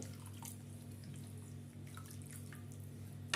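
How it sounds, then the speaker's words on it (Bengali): Water is poured from a bowl into cooked-down spice masala in a pan for potato kofta gravy, giving a steady, soft liquid rush with light drips against a constant low background hum. "এবার মশলাটার মধ্যে আমি পরিমাণ মতন জল দিয়ে দেব"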